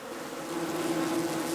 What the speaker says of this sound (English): There's a face full of bees now.